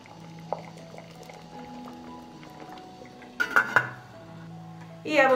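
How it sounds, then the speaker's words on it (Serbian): A pot of water for boiling onion skins is set down on a stove, giving a few soft clunks and sloshing liquid sounds, with a louder metallic knock near the end against faint kitchen background. "Stavljam šerpu na šporet."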